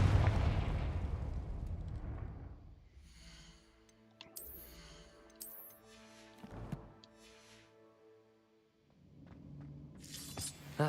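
A Confringo fire spell bursts with a loud shattering blast in Hogwarts Legacy, the crash fading over a couple of seconds into soft tonal game music and chimes, with another crackling burst near the end.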